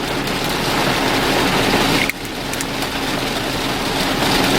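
Heavy rain pours down outdoors in a steady, dense hiss with a faint hum of passing traffic and a brief dip midway.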